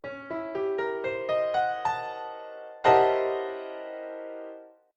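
A series of sustained piano chords struck one after another, climbing in a steady rhythm, then a final rich, dissonant alpha chord of stacked diminished sevenths rings out and slowly fades.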